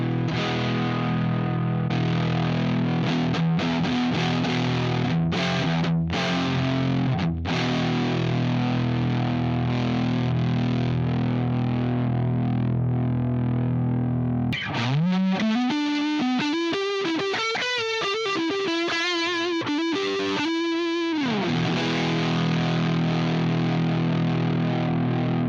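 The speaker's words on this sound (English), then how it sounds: "Sounds very much like a continuation of the overdrive, very fuzzy, adds a lot of drive to the signal" Electric guitar played through the fuzzy, heavily driven distortion of a Blackstar Jared James Nichols amp plugin: sustained chords ring out, then a sliding, bending riff follows, continuous and loud with no voices.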